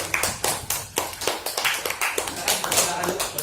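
Clapping from a small classroom audience, a quick irregular run of distinct hand claps close by, with brief voices underneath.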